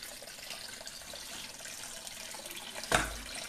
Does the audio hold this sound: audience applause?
no